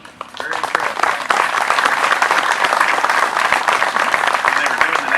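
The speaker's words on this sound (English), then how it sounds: "Let's have another round of applause." Sustained applause from an audience at a Memorial Day ceremony at Roselawn Cemetery in Martinsville, Virginia, honoring a band: dense, steady clapping that swells after a brief start and holds loud and even throughout.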